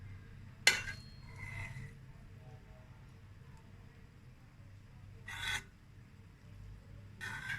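Cooked rice pilaf is stirred in a pot, giving a few short, sharp scraping rasps of a utensil against the pan separated by quiet pauses, close and fairly faint.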